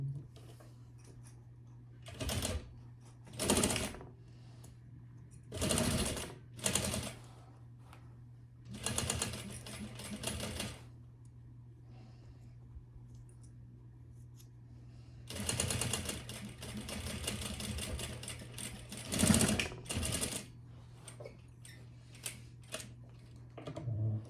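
Bursts of sewing machine stitching on a bean bag, several short runs of rapid mechanical chatter separated by pauses, with a steady low hum throughout and no talking.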